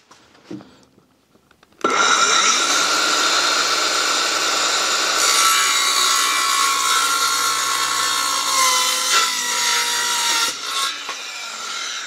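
An Einhell TP-CS 18/165 Li cordless circular saw rips through a 10 mm MDF board: a brief start, then a loud, steady whining cut lasting about nine seconds that winds down near the end, with no talking.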